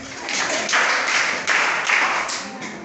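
A class of students clapping for a classmate during a computing lesson, a short burst of several seconds of fairly close, uneven applause in clustered waves.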